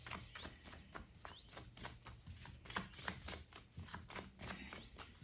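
Tarot cards are shuffled and drawn in a quick run of soft riffling slaps and flicks, close and fairly quiet, with no speech over them.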